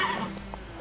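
Roach, Geralt's horse in The Witcher 3 on PlayStation 4, lets out a short whinny, close and fairly loud, with faint hoof clip-clop and game ambience behind it; no talk.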